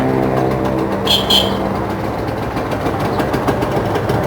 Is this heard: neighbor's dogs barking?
no